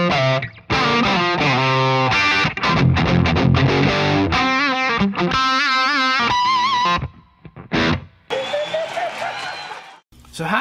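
High-gain distorted electric guitar lead, played loud and sustained with singing held notes and fast runs, broken by brief pauses, with no talking over it.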